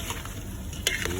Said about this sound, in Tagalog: Haluin ng konti.